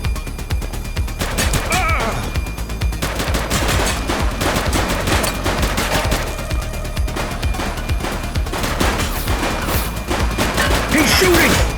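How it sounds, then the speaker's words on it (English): Dense, sustained gunfire in the police game The Precinct, rapid bursts and single shots crashing almost continuously at high volume, with scattered impacts and a faint voice briefly under the barrage. "Shots fired!"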